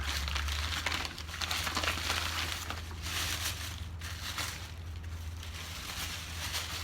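Continuous crinkling and rustling of paper being handled and torn open, close up, steady for several seconds with no voices.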